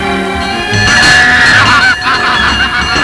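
A large flock of farm ducks at a Lake Baikal farm calls loudly and continuously as they rush to the feeders at the feeding-time bell, a dense honking, quacking chorus close by with no talk.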